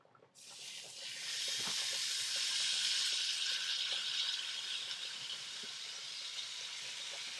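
Steaks coated in olive oil, salt and pepper sizzle in a hot pan, a loud, steady hiss that erupts suddenly and holds strong for several seconds, close up with no talk.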